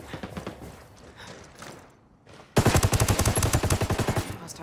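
Enemy gunfire in the video game Ghost War: a quieter stretch of scattered shots, then a sudden loud run of rapid automatic bursts that keeps going close up.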